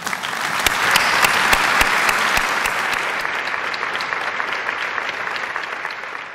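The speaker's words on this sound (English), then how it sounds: "Let's applaud these individuals as they stand." Sustained audience applause in a university auditorium as merger staff stand, with loud individual claps near the front rising early then easing to a steady, softer wash of clapping.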